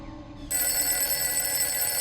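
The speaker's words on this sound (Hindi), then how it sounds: "मुझे लैंडलाइन पे फोन आ रहा है।" A landline telephone suddenly starts ringing loudly and close, a continuous bright electronic trill that cuts in after a short quiet moment and carries on steadily.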